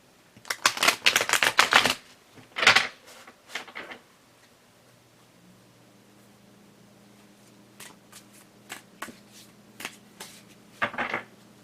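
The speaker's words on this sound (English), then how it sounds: "Shuffling the cards where they can see." Cards riffle in a rapid flurry, then shuffle again in shorter bursts, with softer taps and flicks in between; close and crisp, no voices.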